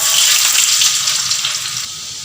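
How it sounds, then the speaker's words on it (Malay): Garlic sizzles in hot oil in a pan while Chinese chap chye is cooked, a loud bright crackling hiss that stays steady, then eases down near the end. "sekarang kita goreng bawang putih"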